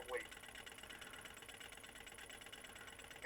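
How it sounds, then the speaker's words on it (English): A homemade Stirling engine runs with a steady, fast, even chugging like a small single-piston motor, close and continuous, with a voice briefly heard at the start and end. "It even sounds like a single piston engine of some sort."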